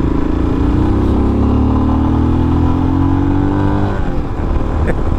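A vehicle engine pulls hard above 3,000 rpm, its rising drone climbing steadily in pitch, loud and close from inside the car, with a shift near the end.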